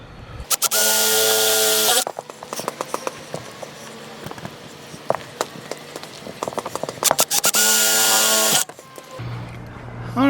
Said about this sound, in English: And then drill once more.